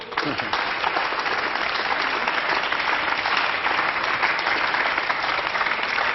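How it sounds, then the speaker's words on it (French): Steady applause from a television studio audience on a French news quiz show, loud and sustained throughout without a break. "Applaudissez-le quand même"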